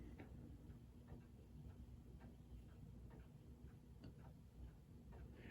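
A 1927 Junghans German grandfather clock ticks steadily and faintly, its even tick-tock beat repeating through a quiet room with a low background hum.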